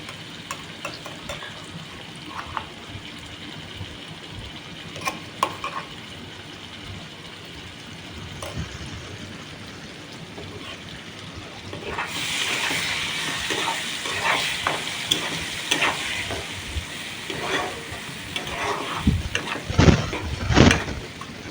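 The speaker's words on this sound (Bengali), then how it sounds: "ভালো করে বেশ কিছুক্ষণ কষাতে হবে" Onion with ginger, green chilli and garlic paste sautés in a pan: quieter frying and scattered stirring scrapes at first, then a sudden louder, denser sizzle with repeated clattering stirs toward the end.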